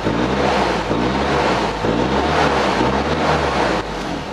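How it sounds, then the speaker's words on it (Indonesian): A 2012 Ford Ranger XLS turbo engine with a soft, bassy Borla-style exhaust revs loudly nearby, rising and falling in continuous pulls before easing slightly at the end. "Kita coba dengar suara mesinnya."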